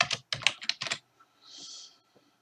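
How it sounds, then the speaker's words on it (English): Typing on a computer keyboard, a quick close burst of several key clicks followed by a brief softer keystroke sound and a faint tap. "I'm going to type clear in here"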